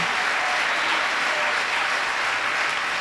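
A large audience at a devotional assembly claps loudly and steadily for a group of students, a dense, even wash of applause lasting throughout with no voices standing out.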